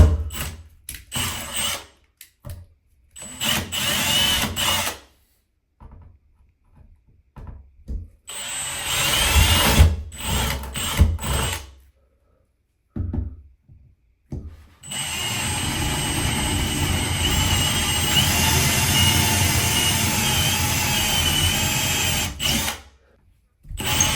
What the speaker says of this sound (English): Appears we drilled right through on that one.